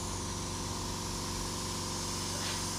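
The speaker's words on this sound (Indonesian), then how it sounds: "Oke, cara nyemprotnya seperti itu." Spray gun applying a wood toner finish over sanding sealer and wood stain in melamine finishing, a continuous steady hiss with an underlying compressor-like drone, no talk.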